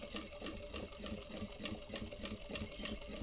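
A sewing machine stitches along the zipper of a crossbody bag, a close, steady rapid whirring hum with an even needle rhythm that runs continuously throughout, with no talking.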